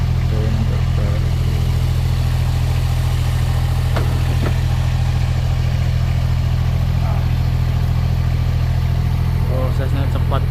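A fairly old rice transplanting machine runs in a paddy field in Taiwan, its engine a loud, steady low hum throughout, with someone talking over it.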